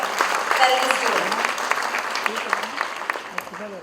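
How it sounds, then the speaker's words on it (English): Audience applause at a women's wellness charity event, a brief burst of dense clapping from a crowd, fairly close and loud, tapering slightly toward the end. "Ladies and gentlemen, a big round of applause for Prashanti Cancer Care Mission"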